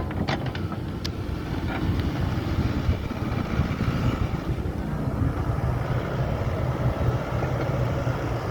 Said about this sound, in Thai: ลมก็เริ่มมาแล้ว